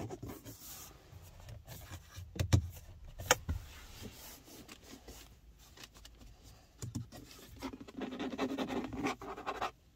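Fingers scratch and tap the hard plastic interior trim of a Hyundai Kona N Performance 2.0 T-GDI, producing faint, close rubbing with a few sharper knocks in a quiet cabin.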